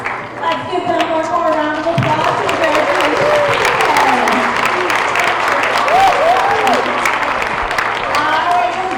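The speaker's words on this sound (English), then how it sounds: "Let's give them one more round of applause." Children and adults at an elementary school character education assembly break into a full round of clapping, dense and steady, with cheers, whoops and excited voices rising over it.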